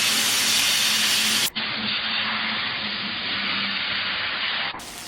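Sorghum-flour batter, ladled onto the center of a hot griddle, sizzles with a loud, steady hiss, close and continuous with no talking.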